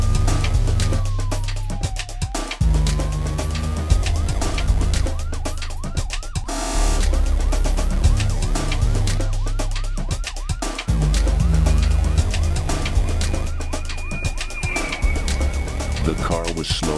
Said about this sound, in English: But spinning lights and sounds of sirens came to pursue.